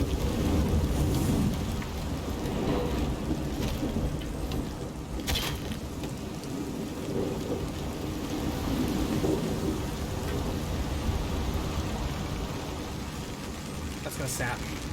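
Heavy steady rain with rolling thunder during a storm in Shadow of the Tomb Raider, a continuous dense downpour with low rumbles and a couple of sharp cracks, with talk faintly beneath.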